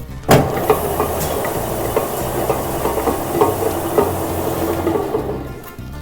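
A mill grinds cacao with sugar into dry chocolate powder, a steady loud mechanical rumble and rattle with a sharp knock near the start.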